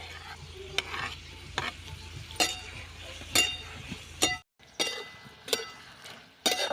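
Tomatoes sautéing in a pan with curry leaves for a spicy sprouted matki usal, heard as a soft steady sizzle broken by several sharp stirring scrapes and clinks of a spoon against the pan, close up with no talking.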